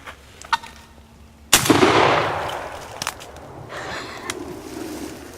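A single loud shotgun blast fires at a jake turkey during a Pennsylvania spring gobbler hunt, echoing and decaying outdoors after a few faint rustles, followed by quieter movement.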